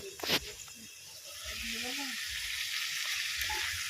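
Mutton sautéing in a pan over a wood-fired clay stove makes a soft, continuous frying hiss that builds after a brief knock at the start and holds steady, faint and close.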